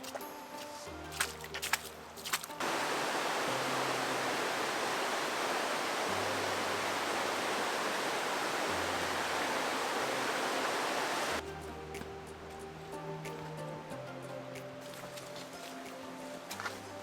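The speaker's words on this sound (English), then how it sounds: "Waterfall." A waterfall on the rainy, muddy Totara Flats tramp: a loud, steady rushing roar starts abruptly, holds for about nine seconds, then cuts off, with quieter outdoor sounds before and after.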